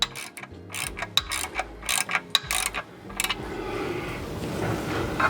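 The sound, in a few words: ratchet tightening bellhousing bolts in star pattern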